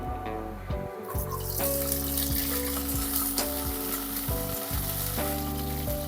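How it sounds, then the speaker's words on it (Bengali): Cauliflower fries in oil in a wok, sizzling loudly. A strong sustained tone and a watery, tap-like rush run through much of the clip and partly mask the frying. Nobody talks. "কড়াইতে তেল দিয়ে নিচ্ছি। প্রথমে কপিটা ভেজে নিচ্ছি।"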